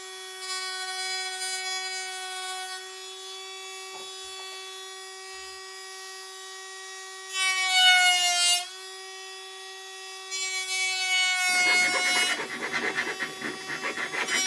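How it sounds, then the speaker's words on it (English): Dremel rotary tool running at a high pitch, a whining tone that holds, dips, then surges in short bursts before grinding noisily against material near the end, close and fairly loud with no speech. "using a Dremel"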